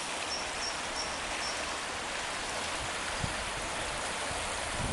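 The Congost river flows past riparian woodland near a railway bridge, a steady broadband rush of water that holds an even level throughout, with no voices.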